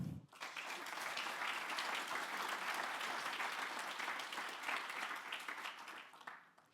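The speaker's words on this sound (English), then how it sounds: "give another huge round of applause for all 3" Sustained applause from a large audience at a stakeholder forum, dense steady clapping that holds for several seconds before tapering slightly at the end.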